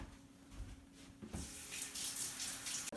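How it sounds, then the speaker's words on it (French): Kombucha is poured into bottles, a steady liquid stream running and filling close by after a few faint knocks, getting brighter as the bottle fills. "À partir de là, je finis de remplir mes bouteilles."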